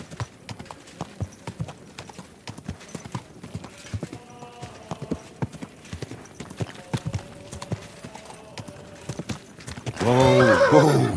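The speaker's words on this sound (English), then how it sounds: "Easy, good horse." A horse in Kingdom Come: Deliverance 2 trots with steady, close clip-clop hoofbeats on hard ground, then lets out a loud, near neigh at the end.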